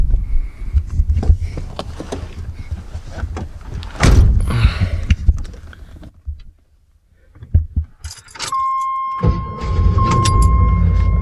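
A 1986 AMC Jeep Grand Wagoneer, all original and unmodified, is handled up close: door and cabin movements, then a steady chime tone as the engine catches and settles into a low, even rumble.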